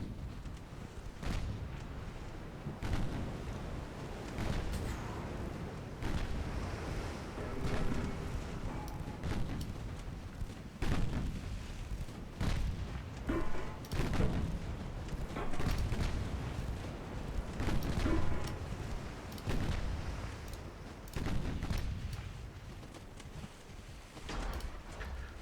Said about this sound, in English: Right, here are the torpedoes.